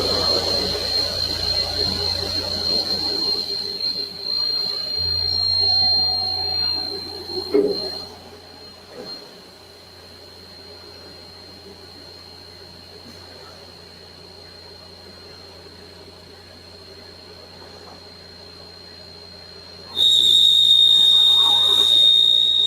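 A CNC machine spindle ramps up toward 3,500 RPM during a drilling demo. A thin, steady high whine holds over a quieter machine hum, then turns sharply louder and brighter near the end.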